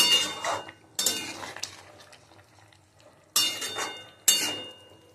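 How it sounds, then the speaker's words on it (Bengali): Utensils clinking and scraping against a pot of fish curry with potatoes and taro as it cooks, four distinct bursts of stirring and metal clatter separated by quieter stretches of low simmering. "মাছটা দিয়ে আরও খানিকক্ষণ ফোটাবো"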